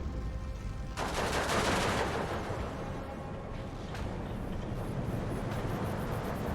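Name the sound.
Pak 43 gun firing into a village in Steel Division 2 video game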